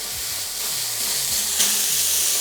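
Two square beef burger patties sizzling loudly on a hot griddle, a steady dense crackling hiss up close with no talking.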